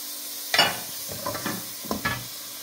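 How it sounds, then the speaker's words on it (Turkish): Mushrooms sizzle softly in a pan during soup preparation, with a few brief scraping stirs of a utensil over the low steady frying hiss. "hemen mantarlarımızı koyuyoruz böyle. Karıştırmaya devam ediyoruz."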